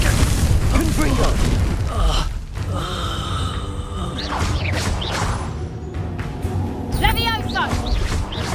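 In the Hogwarts Legacy video game, a Confringo fire-blast spell goes off as a loud, booming burst inside dense, continuous game sound, with a voice speaking over the action.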